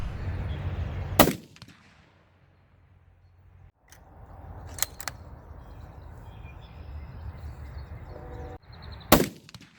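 Sharp, loud 7mm-08 or 7mm PRC rifle shots crack at an outdoor range, three separate blasts spaced a few seconds apart with quiet ambience between.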